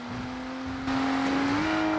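Engine note of a car accelerating in the FiveM video game, said to sound like a BMW, a steady rising drone that jumps louder partway through and keeps climbing in pitch.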